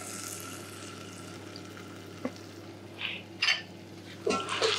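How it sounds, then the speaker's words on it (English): Beans with chili in olive oil warm gently in a pan, a soft low sizzle under a steady hum, with a few brief louder spits and stirring clatters near the end. "So the beans are heating through gently"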